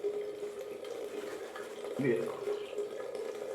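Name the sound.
water running from tap while shaving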